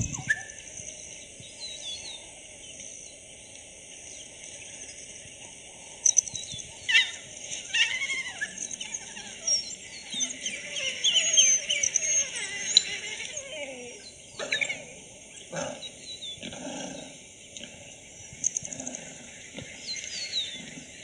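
A pack of African wild dogs gives a rich run of high twittering, chirping calls, bird-like squeaks and yelps overlapping in irregular bursts, moderately close and lively.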